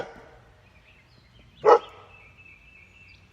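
A dog barking outdoors near a deck, two sharp single barks spaced apart against a quiet background, the second cut off at the end.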